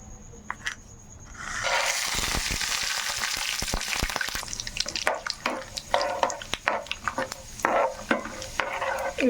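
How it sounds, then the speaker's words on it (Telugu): Peanuts deep frying in hot oil give a loud, steady sizzle that swells and then breaks into crackling pops, with a few faint clinks near the start. "ఇది కూడా ఆయిల్లో డీప్ ఫ్రై చేసుకుంటాను."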